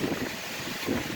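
Gusty wind blowing on a cold, rainy, windy day in Florida, a short burst of rumbling, buffeting noise close to the microphone with no voices.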